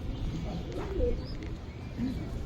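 Soft, low pigeon coos repeat a few times amid a murmuring background, close and gentle.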